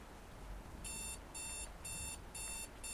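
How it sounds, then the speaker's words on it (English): A video game alarm clock goes off in a cramped in-game apartment, beeping in regular repeated high bursts over a quiet background with no talk. "Why is my alarm clock going off?"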